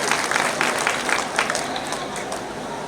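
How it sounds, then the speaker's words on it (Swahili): Applause from an audience at a public ceremony in Kenya honouring the milling company Joy Millers, a dense, steady wash of many hands clapping at close range for the whole stretch, with some crowd murmur mixed in. "Makofi kwa Joy Millers tafadhali"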